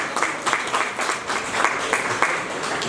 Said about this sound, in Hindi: तालियों की हमें आदत है कविता में, आप बजाते हैं तो ठीक है